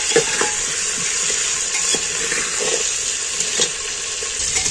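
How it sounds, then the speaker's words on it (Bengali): Potato pieces seasoned with salt and turmeric sizzle loudly in a pan, turned over and over with a spoon, so soft scraping knocks recur through the continuous close frying hiss; no one speaks. "আলুগুলো আমি একটু নাড়াচাড়া করে উল্টে পাল্টে ভেজে নিচ্ছি"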